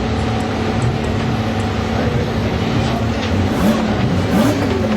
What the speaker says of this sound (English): Right, here we go with the Super Saloons, and Martin Yetland this time finds himself